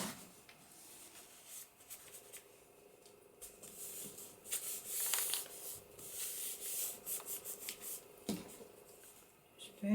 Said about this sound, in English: Just burnish that a little.